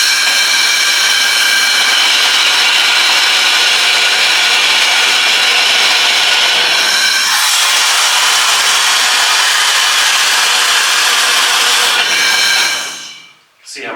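A tugger hoist runs inside a mine, producing a loud, steady mechanical whine with a droning undertone that shifts pitch about halfway through, then winds down and cuts out near the end.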